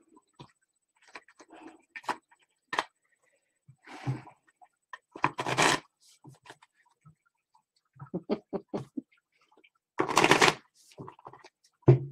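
Tarot cards are shuffled and flicked in bursts, with crisp riffles and sharp slaps against quiet gaps, close up and fairly loud with no talk over them.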